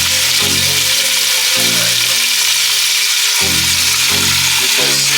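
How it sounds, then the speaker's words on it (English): Meat sears in a hot pot with kosher salt for birria tacos, a loud, steady sizzle with dense crackling and popping close by, broken by a low rumbling hum that cuts in and out. "Get that seared up. Ooh, popping everywhere."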